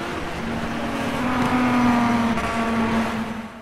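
Historic race cars in the 3-litre class at the Longford race circuit roar past in a steady, loud engine drone with a sustained tonal whine, swelling slightly as they go by, no talk.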